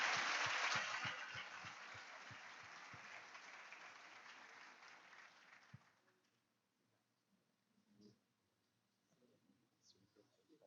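Church congregation applauding warmly as a pastor steps up to the pulpit at an evening conference service, loud dense clapping that gradually thins and fades out after about six seconds, leaving quiet room noise.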